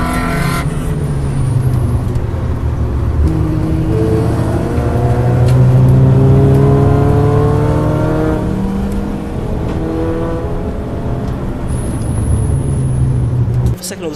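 Racing cars, Minis among them, roar past at Anglesey circuit during a 750MC Roadsports race, engines revving loudly and continuously with rising and falling pitch as several pass close by.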